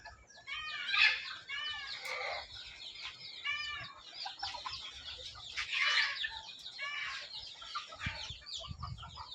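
Desi country chickens cluck and chatter steadily while fed a morning mix of wheat, pearl millet, sorghum and rice, several birds close by calling in overlapping bursts with scratchy movement underneath.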